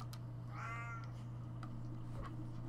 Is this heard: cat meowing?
yes